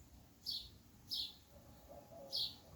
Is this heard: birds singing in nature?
yes